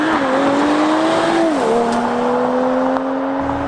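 Mercedes-AMG CLS53 sedan (2019) accelerating, its engine note climbing steadily with a brief dip at a gearshift before rising again, loud and sustained without any talking.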